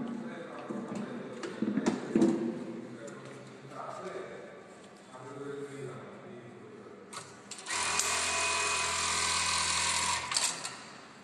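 An automatic sewing machine runs a stitch, a dense mechanical whir rising loud near the end after stretches of handling noise and someone talking nearby.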